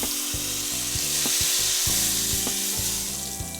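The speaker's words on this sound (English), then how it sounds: "heat some oil in a pan. When the oil will be sizzling" Oil sizzles and fries in a pan while chutney is cooked for Tibetan momos, a steady close hiss broken by several soft knocks and stirring scrapes.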